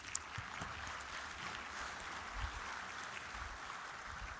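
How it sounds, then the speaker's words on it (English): A conference audience at an opening general session applauds to honor GP Toledo, a soft, even patter of many hands heard from a distance that holds steady throughout. "give GP Toledo one more round of applause there"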